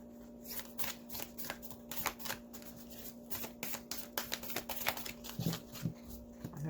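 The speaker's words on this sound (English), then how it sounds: "I've pretty much pre-shuffled all these already" Tarot cards being shuffled in quick riffling bursts, crisp papery flutters repeating close by with a faint steady hum underneath.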